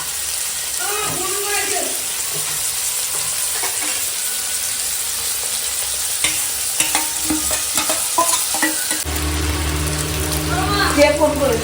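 Ginger, garlic and cumin paste frying with onion, green chilli, flat beans and potato in a pan, a steady sizzle under stirring and scraping, with voices talking over it in places and a louder, denser stretch toward the end.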